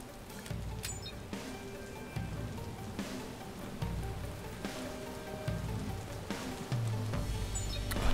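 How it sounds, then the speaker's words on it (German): Heavy rain in Watch Dogs, a dense patter of drops spread across the whole stretch at low level, with faint thuds and game sounds under it. "Es regnet wie Sau."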